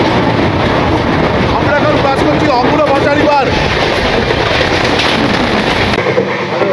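A moving passenger train on the Kolkata to Dibrugarh line rumbles loudly along the rails near a river bridge, with steady rolling noise throughout while a person talks over it.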